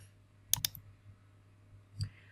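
Two quick, crisp computer mouse clicks in MS Word, followed later by a softer click, over a quiet background hum.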